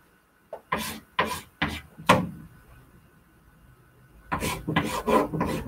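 Pen strokes writing a kanji character by hand, several short scratchy rubbing bursts with pauses between them, close and moderately loud, with no talking.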